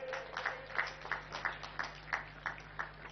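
An audience claps in a steady unison rhythm to welcome Amit Shah at the Bastar Olympics closing ceremony, about three claps per second, sounding quiet and distant over a low hum.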